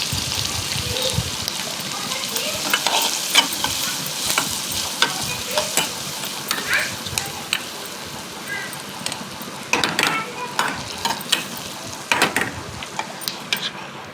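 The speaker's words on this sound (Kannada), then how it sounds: "ತೊಗರಿಬೇಳೆ ಪಲ್ಯನ ಒಗ್ಗರಣೆ ಕೊಡಕತ್ತೇನೆ ನೋಡಿರಿ" Onion, green chillies, curry leaves and mustard seeds tempering in hot oil for a toor dal dish, crackling sizzle with frequent sharp pops and spatula clinks, close and uneven, with no one speaking.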